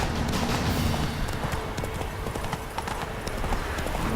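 A horse trots with loud, continuous clip-clopping hooves in The Witcher 3: Wild Hunt video game, dense and close over a bed of ambient game sound for the whole stretch.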